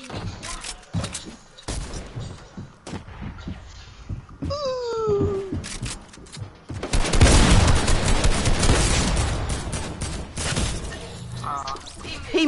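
Video game gunfire, with rapid volleys of sharp shots and sporadic single cracks, heaviest in a dense middle stretch, mixed with game sounds and a player's occasional talk.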